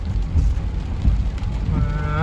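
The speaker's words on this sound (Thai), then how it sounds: "ฝนตกหนักเมื่อคอนแกนครับ" A heavy downpour in a Khon Kaen village, steady rushing rain with low rumbling gusts; near the end a voice begins to speak over it.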